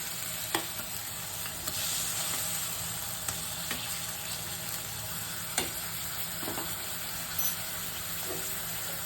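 Lightly fried bottle gourd pieces drop into a pan of simmering coriander-paste water for a duck egg curry, giving a steady soft sizzle and bubbling with a few sharp clinks of stirring throughout.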